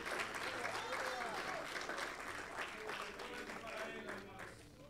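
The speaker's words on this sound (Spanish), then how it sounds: "Denle un fuerte aplauso a Él en esta hora." A church congregation applauds loudly and steadily throughout, with voices mixed into the clapping.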